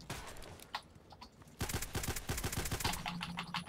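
Quiet GSH-18 pistol shots in the video game Contact Wars: a scattered few early, then a quick run of evenly spaced cracks in the second half, fairly faint against a soft background.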